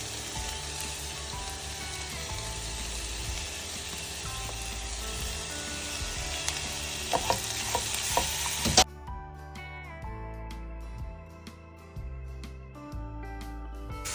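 Onion, green chili, ginger and garlic sauté in a pan with a dense close sizzle and stirring scrapes, then the sizzle drops away abruptly and a quieter stretch of tapping and clinks follows.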